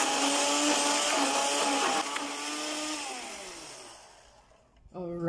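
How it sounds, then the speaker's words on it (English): Electric mixer blending yoghurt, banana and peanut butter, a loud steady whir that drops in pitch and fades as the motor slows after about four seconds, then a short restart. "So right now I'm gonna mix all this together."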